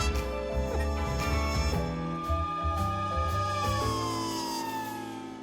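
A siren sound effect, used as a podcast segment sting, wails with rising and falling tones over a layered musical bed, loud and close for several seconds before easing slightly at the end.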